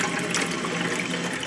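Water runs steadily from a tap in an RV just fitted with a heat exchanger in place of its water heater, a constant close rushing hiss with no pauses.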